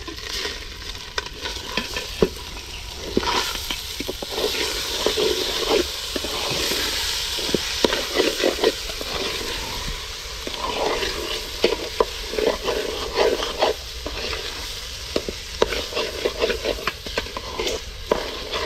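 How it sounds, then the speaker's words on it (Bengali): Gobindobhog rice with ginger paste and spices being stirred and fried in a pan for chicken biryani, a steady close sizzle with frequent scraping stir strokes throughout, no talking. "চালটা মশলার সাথে মিশিয়ে নিচ্ছি ভালোভাবে।"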